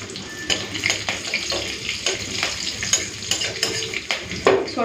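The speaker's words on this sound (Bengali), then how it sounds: "এই তো ওই মাছ ভাজা তেলে ফোড়ন দিচ্ছি কালো জিরে, দেবো চেরা কাঁচা লঙ্কা।" Nigella seeds and slit green chillies sizzle in leftover fish-frying oil, a steady close hiss broken by regular sharp crackles and spatters across the whole stretch, with no talk.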